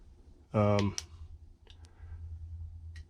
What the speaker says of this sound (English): You have to click it to turn on, but you can soft press the switch modes.